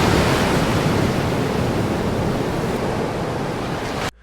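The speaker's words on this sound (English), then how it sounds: "A giant tsunami is born, a moving mountain of water." A giant tsunami in a realistic 3D simulation roars as a dense, loud, continuous wash of rushing water, steady throughout and cutting off abruptly at the very end.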